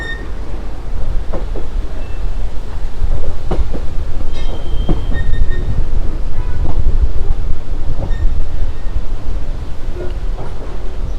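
A local train between Gurugram and Delhi crawls along the tracks at walking pace, giving a continuous heavy rumble with scattered metallic clanks and squeals, mixed with buffeting wind noise on the microphone.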